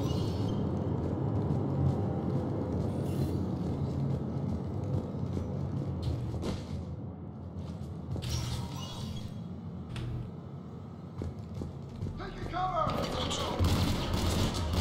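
Weapon fire from the Mass Effect 3 video game during a squad battle, a steady dense barrage of shots and booms rumbling throughout, loud and continuous, with bursts and a voice briefly heard amid the action.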